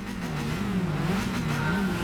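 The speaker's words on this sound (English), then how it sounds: "listen to that engine" A Mini race car engine in Gran Turismo 5 drones and revs, its pitch wavering up and down in smooth undulations, steady and loud with no voices.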